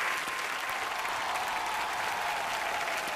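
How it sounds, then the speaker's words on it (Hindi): Studio audience applause for Aishwarya and Irfan on a Hindi show, loud and dense clapping sustained evenly throughout with a faint crowd murmur. "एक बार ऐश्वर्या और इरफान भाई के लिए जोरदार तालियां"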